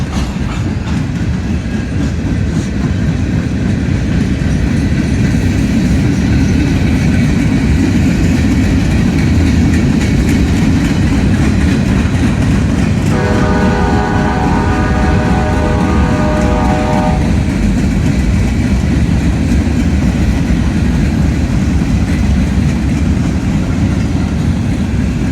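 A Pittsburgh and Lake Erie freight train rolls past in Ashland, Kentucky, its wheels rumbling loud and close throughout, with a steady metallic squeal or tonal whine rising for a few seconds midway.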